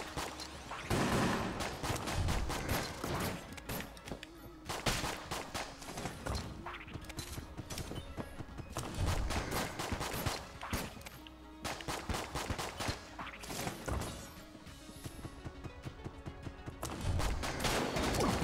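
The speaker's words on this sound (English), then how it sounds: "I like the frost bullets." Frost bullets fired in the video game Enter the Gungeon, rapid bursts of crackling gunfire repeating in clusters over game music, fairly faint overall with brief pauses between volleys.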